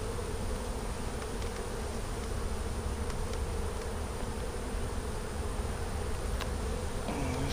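A honey bee swarm being moved from comb into a hive box gives a dense, steady buzz of many bees close by, continuous and unbroken throughout.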